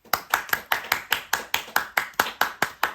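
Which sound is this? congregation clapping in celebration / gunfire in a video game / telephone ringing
congregation clapping in celebration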